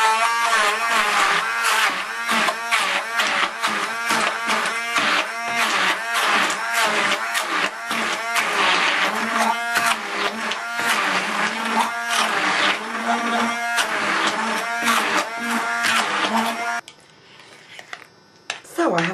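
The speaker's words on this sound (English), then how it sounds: "I'm going to use my trusty hand blender again. So just puree that up until it's really smooth." A hand blender whirs loudly and steadily for most of the clip, its motor pitch wavering as it purees pumpkin, then cuts off abruptly near the end.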